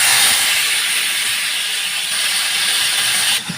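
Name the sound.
fish frying in a hot pan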